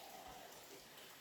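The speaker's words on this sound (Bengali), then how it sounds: "বাইরে অনেক বৃষ্টি, যার জন্য অনেক শব্দ হচ্ছে।" Heavy rain pours outside a home kitchen, a brief steady wash of falling drops with no clear breaks.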